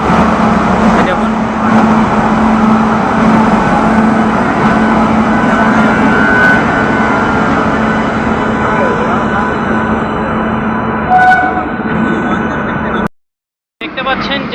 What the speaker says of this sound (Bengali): শিয়ালদা রাজধানী এক্সপ্রেস 13 নম্বর প্ল্যাটফর্মে ঢুকছে নিউ দিল্লিতে